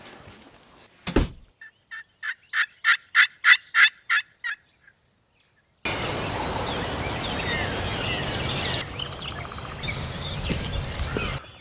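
Wild turkey gobblers in Iowa timber give one loud, near, rapid rattling gobble of about ten pulses, followed by quieter outdoor ambience with distant birds and rustling.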